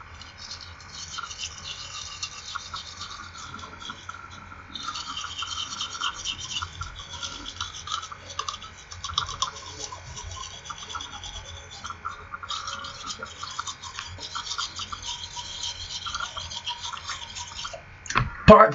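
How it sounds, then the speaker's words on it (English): Toothbrush scrubbing the outside of the lower teeth and gums, a long run of close, rapid scratchy bristle strokes with brief pauses between sections, ending in a louder clatter. "brushing the lower teeth and gums outside, right, front, and left"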